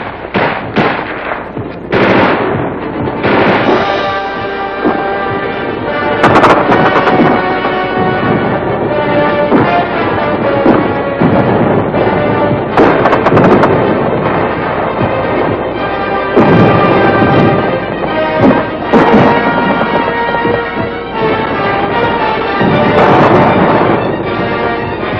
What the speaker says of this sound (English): Gunfire roared in the streets